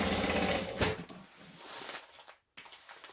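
A sewing machine stitches a vinyl pouch in one short, loud, fast run that eases off, briefly goes silent and then resumes with a soft knock.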